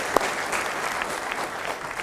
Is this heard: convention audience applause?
yes